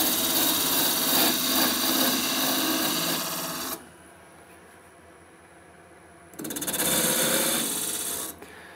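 A wood lathe spins a wooden blank at about 1000 rpm while a sphere is turned, giving a loud rasping hiss of cutting, a quieter pause of motor hum, then cutting resumes.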